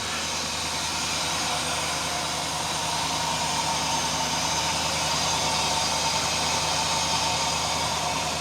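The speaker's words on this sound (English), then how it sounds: "That hissing you're hearing is the cold air intake." An idling car engine with only 10,000 miles on it hums steadily while a cold air intake adds a continuous broadband hiss, close and even throughout with no speech.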